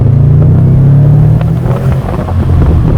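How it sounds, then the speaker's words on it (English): Subaru WRX STI accelerating hard, a loud, steady low engine drone with rising rumble that stays strong throughout, close to the microphone with no talking. "Actually, let me do one last proper acceleration."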